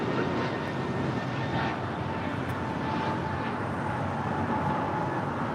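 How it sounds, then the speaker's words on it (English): An Alaska Airlines A321neo airliner in More to Love livery departs LAX, a steady, moderately distant jet roar rumbling evenly without talk. "That is Alaska Airlines Flight 440 departing to Cancun on an A321neo in the More to Love livery"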